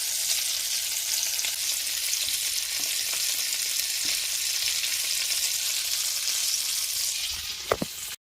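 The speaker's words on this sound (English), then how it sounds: "I've not allowed my crustaceans to be frying for too long, right? So I just want to brown them on each side" Shrimp fry in a pan, browning on each side, with a dense, steady sizzle throughout and a couple of brief utensil taps near the end.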